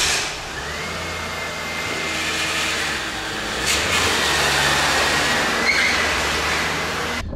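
A big old luxury coupe, a Lincoln Mark VIII, on the move, heard as a continuous loud rumble of engine and road noise that swells slightly partway through.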